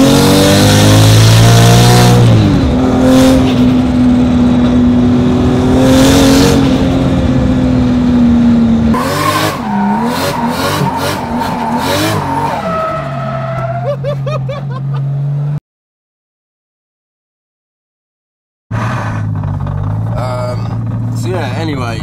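Toyota Chaser drift car with a 1.5JZ engine revving hard with rising and falling pitch and tire skid squeals, loud and close, cutting to silence for a few seconds before the engine returns; voices talk over parts of it.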